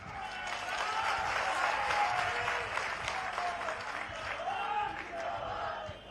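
Rally crowd in Nalanda, Bihar clapping and cheering at a political address, a dense, sustained wash of applause lasting throughout with a few whistles and shouts rising above it.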